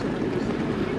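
Passenger train No. 360 stands at the station in Kaliningrad, giving a steady, dense mechanical rumble and hum with no clear breaks, loud and close.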